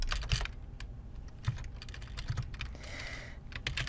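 Fingers typing programming code on a computer keyboard, quiet irregular clicks and taps in uneven bursts, with a few sharper key strikes standing out.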